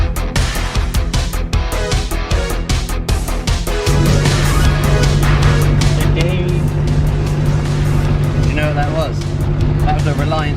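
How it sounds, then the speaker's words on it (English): Reliant Scimitar with a V6 engine on the road, a loud steady engine drone with a clear rising tone and road rumble. Someone talks over the first part of the drive. "That was a Reliant Scimitar."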